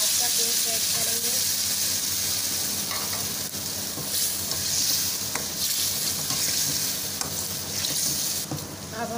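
Tomato and onion paste fries in a pan with a loud, continuous sizzle and hiss, close by, broken by occasional clicks and scrapes of stirring.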